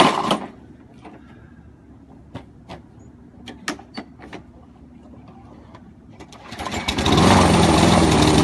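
A lawn mower engine cranks with several sharp clicks and pulls, then sputters and catches, swelling into a loud, steady roar close by.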